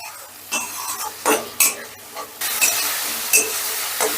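Onion, ginger and garlic paste with a splash of water is sautéed in a pan, with intermittent spatula scrapes and clinks over a soft sizzle, close by and without speech.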